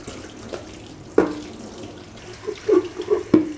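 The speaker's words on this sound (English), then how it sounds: "Finishing that, I will rinse out both of the parts." Tap water runs over the parts of a Brita Maxtra filter jug as they are rinsed at a sink, a soft continuous splash with louder gushes and knocks as the pieces move under the stream. No one speaks.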